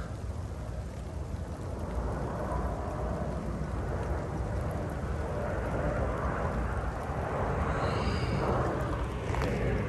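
Steady rain falls outdoors near a tree, a continuous broadband wash of patter with low rumbling underneath that holds throughout, loud and close with no voices.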